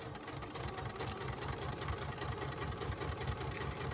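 A sewing machine stitches quilt fabric in a fast, steady mechanical chatter with an even rhythm, close and continuous.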